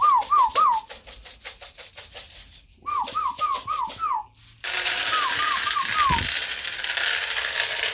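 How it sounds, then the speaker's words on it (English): A person whistles to call young pigeons in an aviary, giving quick bursts of short, repeated falling whistles, nearby and clear. A shaken can rattles in fast, regular beats alongside them. "now's definitely the time to whistle and shake the can at your birds"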